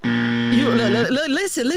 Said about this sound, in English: I'm going to give you the buzzer for that.